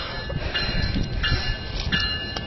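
A train moving along rails, a loud continuous rumble with metallic ringing tones and squealing overtones, heard up close.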